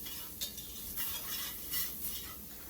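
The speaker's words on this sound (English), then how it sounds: "now we're gonna sprinkle the salt, the pepper, and the Old Bay right over top. Give that a nice stir." Vegetables being stirred in a pot after a sprinkle of salt, pepper and Old Bay, with a soft continuous scraping and faint sizzle and a few brief louder utensil swishes, close by and steady.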